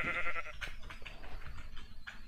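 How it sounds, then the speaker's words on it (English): A quest ram, a sheep in modded Minecraft, gives a wavering bleat at the start, followed by soft shuffling and scattered faint noises. "That's the sheep."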